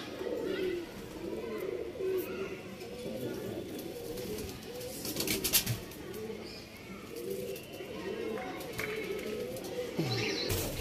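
Pigeons coo in a loft, repeated soft rolling coos overlapping at close range over low background murmur, with a brief flutter or clatter midway.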